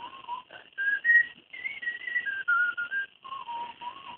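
Someone whistles a wandering melody in clear sustained notes with short breaths between phrases, close and fairly soft, with no other sound.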